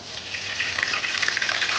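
Whole spices including bay leaf frying in hot oil in a kadai used for chicken tel jhal, a continuous close crackling sizzle with no voices.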